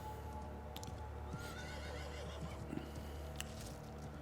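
A horse in the video game Diablo 4 whinnies amid a dense, constant game soundscape, with hoof clip-clops and ambient effects underneath; the neigh is moderately loud against the busy background.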